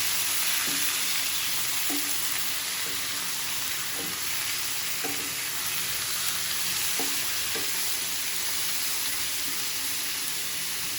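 700 g of beef sizzles steadily in a pot, with a spoon scraping and stirring at regular intervals over the constant frying hiss.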